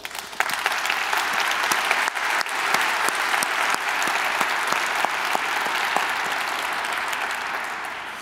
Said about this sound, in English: I ask for your approval of the slate by acclamation as indicated by your applause.